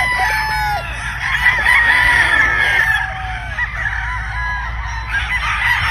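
Gamefowl stag and roosters at a game farm: loud, close calls, with a long crowing-like cry, over dense overlapping poultry noise and other birds.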